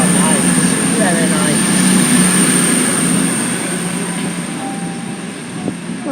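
A CrossCountry passenger train rolls through Stockport station, a loud sustained rumble with a high whine and faint wheel squeal that slowly eases off, while a voice talks over it.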